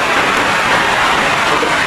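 Steady, dense rain hissing down nearby, a continuous wash of drops on surfaces with no voices.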